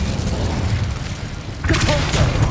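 Incendio fire spell cast in Hogwarts Legacy on PlayStation 5, a sudden whooshing burst of flame that erupts over a low rumbling game backdrop and crackles on to the end.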